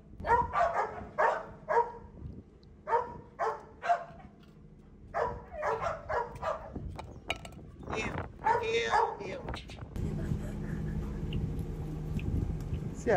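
A household dog gives repeated short barks and yips, with some whimpering, close and animated, alternating with people talking, followed by a stretch of busier background noise.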